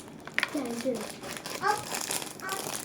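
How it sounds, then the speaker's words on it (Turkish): A plastic bag crinkles and rustles as chewing gum is pulled out of it, close and busy, with a voice talking over the handling. "Şöyle sakızımı çıkarıyorum poşetten."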